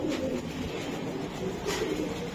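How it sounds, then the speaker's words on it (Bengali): Racing pigeons coo in a low, steady murmur that runs throughout, close by, over a constant hum of background noise. "বন্ধুরা দুইটা কবুতরে দিছে"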